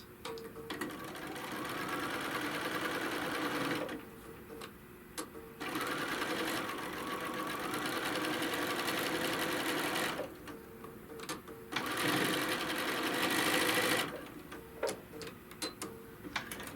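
A sewing machine stitches quilt pieces straight across, running in steady bursts with two brief pauses between runs, close and fairly loud, with no talking.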